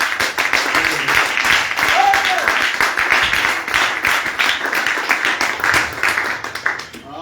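Church congregation at a French-language Sunday service applauding: continuous, fairly loud crowd clapping with voices and shouts mixed in throughout, the clapping steady and rhythmic and thinning slightly toward the end.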